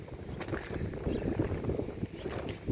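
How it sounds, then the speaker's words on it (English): Footsteps crunch over seashells scattered on a cold beach, giving a close, irregular gritty crackle with soft wind noise behind it. "You hear that sound? You're stepping on the seashells."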